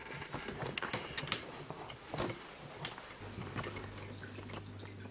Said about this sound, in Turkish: fişimizi taktık ve motor çalışmaya başladı